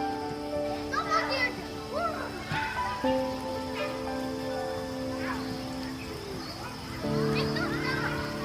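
Children running and playing outdoors, with high excited shouts and chatter rising and falling over a steady background hiss and occasional tonal notes, at a moderate distance.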